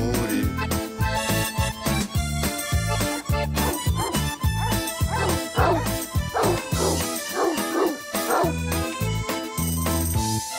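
Two chained dogs bark repeatedly and loudly nearby in an outdoor setting, with rapid overlapping barks and yips, heavily clipped and continuous throughout.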